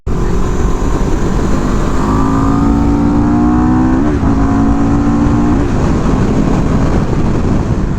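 A CFMoto 700CL-X motorcycle under way with loud, close engine drone and strong wind roar, the engine note climbing steadily as it accelerates, with brief shifts in pitch between gears.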